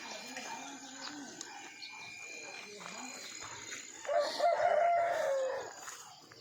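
Farmyard chickens cluck and a rooster crows at moderate distance, with a louder burst of calls near the end over faint background noise.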